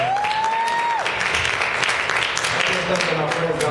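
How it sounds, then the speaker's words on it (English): Church congregation clapping for a coach during a service, a full, steady patter of many hands lasting a few seconds, with a brief rising tonal sound near the start over the applause. "Give a round of applause for this coach."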